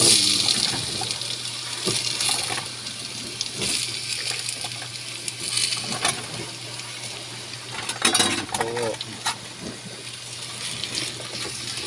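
Condol gourd being stirred and sautéed with onion and garlic in a pan, a steady broadband wash of sizzle and scraping with a few louder stirring strokes near the middle and end, no one talking.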